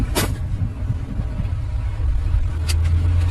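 A camper vehicle rams into another vehicle, heard as a steady, loud road rumble of engine and tires with a couple of sharp bright bursts near the start and later on, with no voices.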